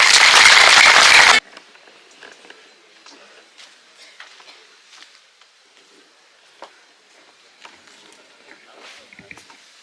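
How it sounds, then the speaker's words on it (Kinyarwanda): An audience at an official community gathering in Karongi bursts into loud, dense clapping for about a second and a half, then it cuts off to a quiet room with faint scattered shuffles and clicks. "Mumfashe tubashimire tumukomera amashyi ku ijambo ryiza tugejeje."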